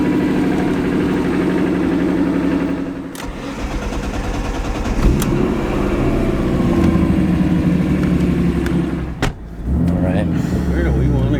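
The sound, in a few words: 700 whp BMW M3 engine running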